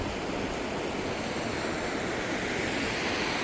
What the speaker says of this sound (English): That water's rushing pretty good.